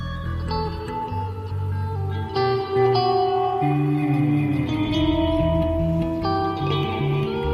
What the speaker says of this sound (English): Now the reverb's very strong on that.